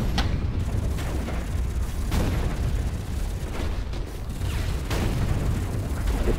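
Heavy gunfire and explosive booms from mech combat in the video game Hawken, a dense, loud barrage of repeated blasts over a constant rumbling mechanical background.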